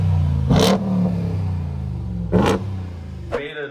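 A car's engine revs in sharp bursts, three quick blips rising over a steady idle, close and fairly loud.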